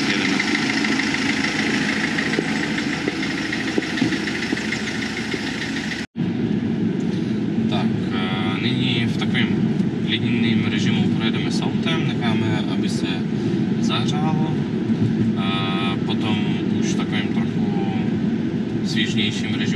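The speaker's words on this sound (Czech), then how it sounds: "Takže motor jsme nastartovali. Je slyšet, že nám krásně pracuje." A Mercedes Vito W639 van's 2.2 CDI OM651 diesel engine runs steadily with a loud, even drone and a brief break partway through.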